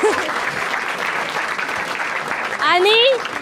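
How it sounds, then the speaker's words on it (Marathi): Dense applause from the audience at a Marathi stand-up comedy crowd-work show fills the room steadily, with a voice rising briefly over the clapping near the end. "एकदा या दोघांसाठी टाळ्या वाजवा"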